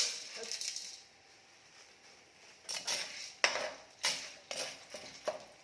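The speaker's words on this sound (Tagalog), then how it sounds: "Painit na ako ng mantika. Ilagay ko na itong popcorn guys." Popcorn kernels dropped into a pan of hot oil give a quiet pause, then several sharp rattling clatters and sizzling bursts close by.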